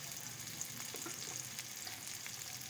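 Salt, turmeric, crushed chili and coriander powder frying in a pan for eggplant sabzi, a soft steady sizzle with light stirring, faint and close with no talk.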